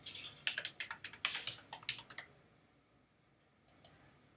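A burst of quick keystrokes on a computer keyboard while a password is entered at a Google Drive sign-in, about a dozen close, crisp clicks in uneven rhythm, then a pause and two final taps.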